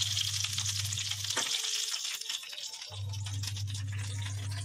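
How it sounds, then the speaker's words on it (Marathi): Green chillies fry in hot tempering oil with a steady close crackling sizzle. A low hum drops out for a moment in the middle, and a faint stirring rattle sits underneath. "हे सगळं साहित्य आता मम्मी फोडणीला घालणार आहे"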